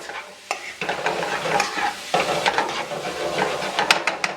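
Curry-coated shrimp stirred in a pan over high heat: a continuous close sizzle with frequent spoon scrapes and clacks against the pan bottom.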